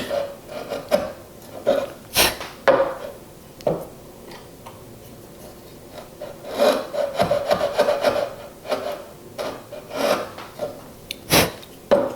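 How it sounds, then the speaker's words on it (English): A router plane pares a hinge mortise in a wooden rose shadowbox, a series of close, sharp scraping strokes in an irregular rhythm, with short pauses between the cuts and no talk. "I have my router plane set up to get me down to the exact depth of the hinge"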